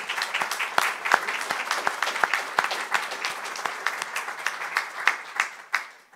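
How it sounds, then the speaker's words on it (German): Audience applause rings out at a German-language podcast talk in an art space, honoring the acoustics team: dense, steady clapping from many hands, fairly close, with sharp individual claps popping above the wash and no voices. "Aber wenn sie da sind, sollten wir ihnen auch einen kleinen Applaus geben und danken dafür."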